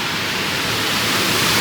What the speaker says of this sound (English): What a waterfall.